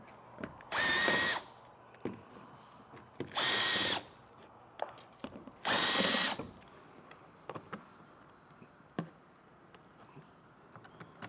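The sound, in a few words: power tool removing 7mm screws from Ford Maverick front fascia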